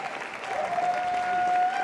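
Audience applauding a discussion panel at a live festival-of-ideas event, a steady broad wash of clapping with a faint sustained tone running through it.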